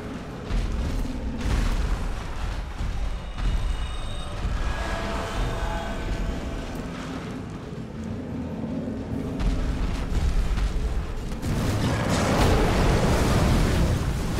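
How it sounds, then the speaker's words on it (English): An enemy breathing fire in Dark Souls 3, heard as a loud, continuous roaring rush that builds toward the end, set within dense game noise and rumbling booms. "Breathe that fire"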